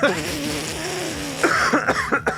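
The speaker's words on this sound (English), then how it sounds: "Just coughed right into it." A person coughs directly into a microphone, a few harsh close bursts following brief low throat noise.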